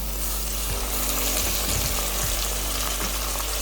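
Onions sautéing in a pan for devilled chicken, a dense continuous frying sizzle, loud and close, with faint low knocks but no talk.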